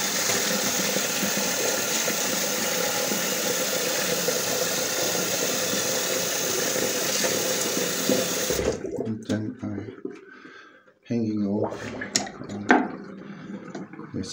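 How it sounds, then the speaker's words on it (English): Tap water runs steadily into a sink as a shaving brush is rinsed, a loud continuous rush that cuts off abruptly, followed by short clattering handling sounds. "and then I wash off my brush"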